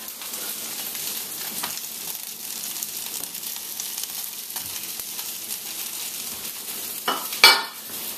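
Scrambled egg going into a hot pan of Spam fried rice, a close, steady sizzle under brisk stirring, with a sharp scrape of utensil against pan near the end.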